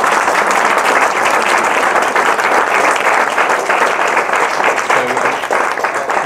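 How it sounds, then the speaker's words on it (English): An audience applauds steadily after a role play at a science outreach event on sexual health, a dense, continuous wash of many hands clapping at close range, loud and sustained throughout with no speech. "so I think a round of applause."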